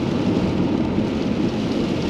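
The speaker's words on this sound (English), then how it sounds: "definitely seeing the rain now" Steady, dense rain roaring against a moving car near Snoqualmie Pass, a continuous hiss with a low rumble underneath, no voices.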